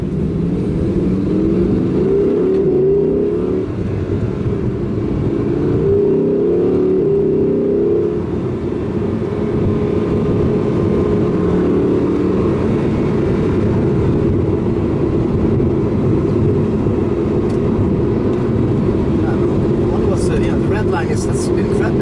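An Audi R8 Coupé V10 engine, revving to 8,500 RPM, drones loudly from inside the cabin, its pitch rising and falling as it revs, while people talk over it.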